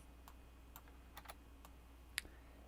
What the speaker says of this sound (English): I do apologize for the loudness of my keyboard